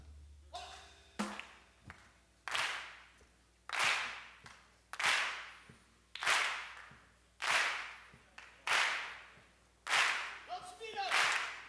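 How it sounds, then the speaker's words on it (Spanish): A drum-festival audience in Seville claps together in time with a drum tempo. Roughly nine big unison claps land about every second, each ringing out in a reverberant hall, with a voice heard faintly at the start. "And I would like you to clap."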